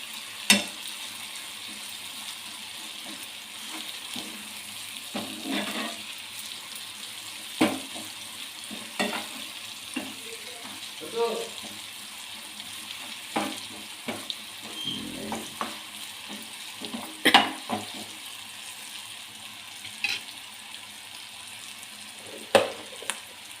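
Chili powder being stirred into tomato pieces frying in a pan: a steady sizzle runs underneath, with periodic scraping strokes of the spoon and occasional sharp clinks against the pan.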